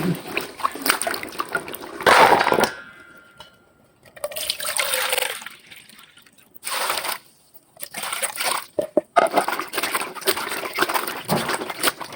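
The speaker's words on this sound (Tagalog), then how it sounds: "Hugasan po natin ng maayos. Hanggang sa luminaw na yung tubig." Water splashes and swishes in bursts as papaya pieces are rinsed and stirred by hand, with short quiet pauses between rounds.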